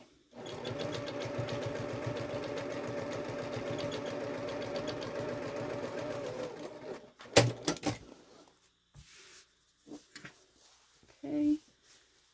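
Long, big quilting stitches on a scrap-fabric triangle pouch come from a sewing machine humming evenly for several seconds, then it stops and scattered bumps and handling knocks follow in a quieter room.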